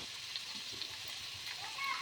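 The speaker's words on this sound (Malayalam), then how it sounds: "ചട്ടി അടുപ്പത്ത് വെച്ച് 3 ടീസ്പൂൺ വെളിച്ചെണ്ണ ചൂടായതിന് ശേഷം 2 സവാള നന്നായിട്ട് ഇളക്കാം." Two onions frying and being stirred in three teaspoons of hot coconut oil in a pan, a steady soft sizzle with faint clinks and scraping, fairly quiet.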